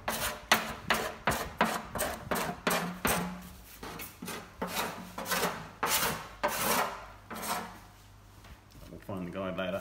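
Hand scraping paint and old filler off a VW Beetle engine lid: a quick series of rasping strokes, steady and close, falling quiet briefly near the end before more scraping, with a voice talking underneath.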